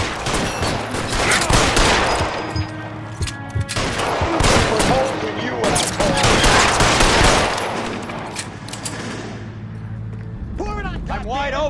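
Gunfire crackles through a shootout in the crime video game L.A. Noire, with rapid bursts and single shots layered almost continuously under loud overlapping voices and game music, easing toward the end.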